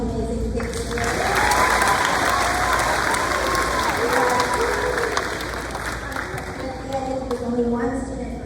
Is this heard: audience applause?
yes